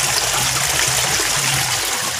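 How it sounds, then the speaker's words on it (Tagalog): Water from a pond pump outlet falls steadily into a DIY filter box built from recycled materials, a continuous close splashing trickle with no break. "Ayan po yung bagsak ng tubig."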